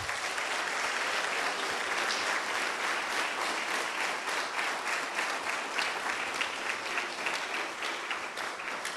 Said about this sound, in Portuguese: Aplauda ao seu Deus bem forte.